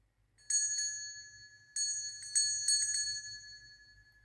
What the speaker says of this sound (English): I think that's the most beautiful sound of a bell I've got, actually, in my collection.